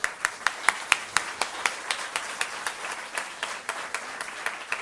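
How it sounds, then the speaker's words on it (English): A conference audience at a teaching and learning event claps for two panelists: a steady, rhythmic patter of hands from a modest crowd, fairly close and without voices. "I hope we can applaud our two panelists"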